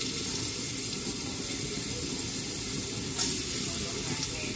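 Garlic dropped into hot cooking oil in a pan for Filipino ginisang ampalaya, giving a steady, close hiss and crackle of frying throughout, with a brief sharper burst near the end.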